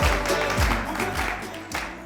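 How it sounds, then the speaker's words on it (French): Studio audience on a French-language TV variety show claps to welcome a guest, a short, loose burst of applause with a few louder hand strikes, fairly close. "On va l'applaudir."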